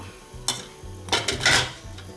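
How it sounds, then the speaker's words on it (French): Chocolate set into a saucepan resting over a water bath of another pan, giving a few soft metallic clinks and scrapes over a low steady hum, close and fairly quiet. "Et là, je viens déposer mon chocolat."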